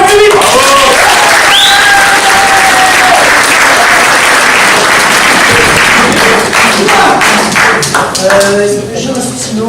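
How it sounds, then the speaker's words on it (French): A live comedy show audience in France applauds a volunteer coming up on stage, loud, close, sustained clapping with crowd noise and a voice speaking over it, the applause thinning slightly toward the end. "On applaudit bien pour lui!"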